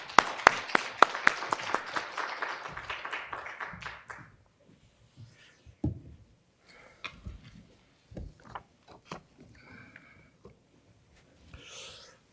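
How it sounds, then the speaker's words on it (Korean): A church congregation applauds to welcome a guest preacher at a revival service: a burst of clapping that fades after about four seconds, followed by scattered taps and small room noises. "박수로 환영하겠습니다."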